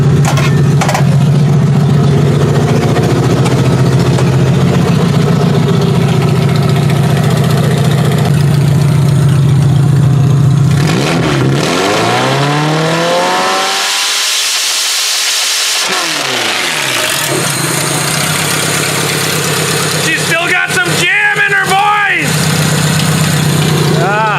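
A derby car engine runs loud and close throughout, idling roughly, then revving up and dropping back, with a few more revs near the end and voices talking over it.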